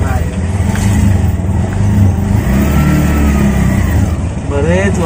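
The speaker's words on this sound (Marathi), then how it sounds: "पण जरा मजा आली बऱ्याच दिवसांनी असं रिक्षा चालवताना" An auto rickshaw engine revs as it drives along, loud and close, rising and falling through the whole stretch.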